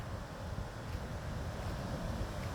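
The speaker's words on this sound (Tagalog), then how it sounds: "Malakas kasi ang alon." Strong Atlantic Ocean waves wash along the shore in a steady, rough roar, with wind buffeting the microphone throughout and no voices.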